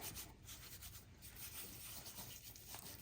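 A hand rubs pepper and garlic powder into raw steak for a Lao-style marinade, making a soft, steady rubbing and scratching sound that stays close and continuous without pause.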